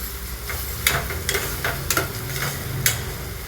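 Onion frying in a pan with salt added, a low steady sizzle running throughout with several sharp stirring scrapes and clicks of a utensil against the pan, close and moderately loud.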